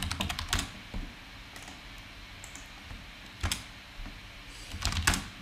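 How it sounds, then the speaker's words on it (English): A password being typed on a computer keyboard: soft, quick keystroke clicks come in short bursts with brief pauses between them. The clicks are quiet and close, with no speech. "Type the password"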